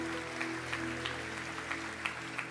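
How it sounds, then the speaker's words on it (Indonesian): An audience at a youth conference session claps, loose sparse hand claps scattered over a sustained keyboard chord drone, soft and somewhat distant. "Yang percaya kasih tepuk tangan buat Tuhan pagi hari ini."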